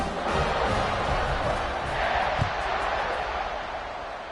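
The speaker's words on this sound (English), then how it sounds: "You think this crowd's going to get loud when their defense comes on the field?" Broad, steady roar of a big football stadium crowd at an NCAA college game between UCLA and Arkansas, a continuous wash of cheering and noise from a distance with no clear single voices.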